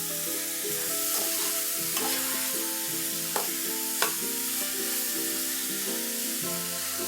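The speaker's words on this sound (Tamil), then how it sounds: "நல்லா கிளறி விடுவோம் இதை நெய்யில்." Carrot halwa stirred in ghee for a Diwali sweet, a steady sizzle under continuous scraping strokes, with a couple of sharp spoon knocks against the pan and music-like tonal layers behind.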